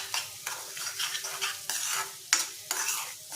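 A spoon stirs an egg and onion curry in a hot pan after salt goes in, making repeated close scraping strokes over a soft sizzle.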